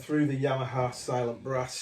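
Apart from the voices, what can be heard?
No distinct noise like a dog, phone or traffic.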